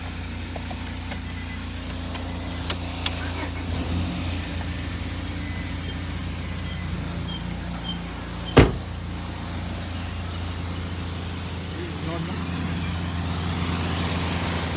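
A car engine turns over and settles into a steady, loud idle with a rumbling muffler, with a sharp clunk partway through, heard up close and without talking.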